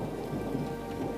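Heavy rain pours down in a dense, steady hiss, with a deep roll of thunder rumbling beneath it, loud and continuous with no voices.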